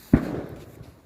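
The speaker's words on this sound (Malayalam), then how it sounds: "കൃത്യം 10 മിനിറ്റ് ആകുമ്പോൾ ഇതിൽ നിന്ന് വെടിയുടെ സൗണ്ട് വരും." A single sharp bang from an automatic bird-scaring gun in a cherry orchard, one loud report followed by a short decaying echo.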